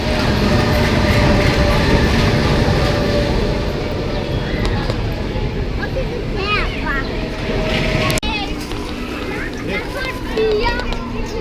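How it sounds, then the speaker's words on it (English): Odin Express, a small powered roller coaster with a very long train at Tivoli Gardens, rumbling and clattering steadily along the track throughout, loud and close, with squeals and faint screams over the continuous roar. "I'm gonna be riding Odin Express. Little powered coaster."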